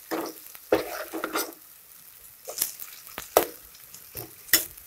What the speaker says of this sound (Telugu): బాగా వేగనిద్దాం ఉల్లిపాయని.